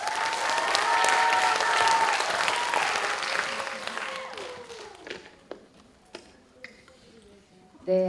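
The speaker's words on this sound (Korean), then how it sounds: "박수 모시겠습니다" An audience at a Korean high school admissions information session applauds, a full burst of clapping that fades after a few seconds into a few scattered, isolated claps, followed by a brief sound at the very end.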